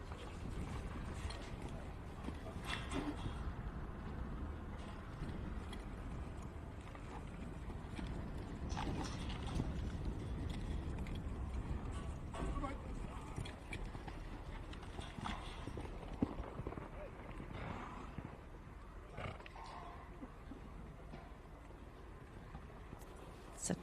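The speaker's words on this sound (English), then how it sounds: "Mark's first in, riding Branchvale Metal Alloy." Horse hooves thud and clip-clop across the dirt during a cutting competition run at a campdraft stallion event, steady and fairly distant under a constant broad hum of arena ambience.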